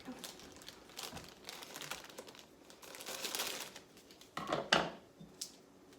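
A snack package is cut open with scissors, giving quiet crinkling and rustling of plastic with a few sharp snips and crunches near the end, close and soft in a kitchen setting.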